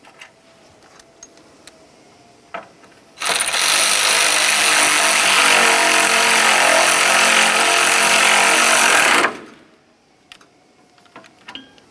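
A ratchet tightens the mounting bolt on the horn of a 2004-2006 Scion xB, a loud continuous rapid clicking lasting about six seconds, framed by quiet tool handling and scattered taps.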